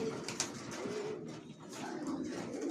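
Racing pigeons cooing in a loft, a steady low murmur of several birds with a few louder calls over continuous background noise.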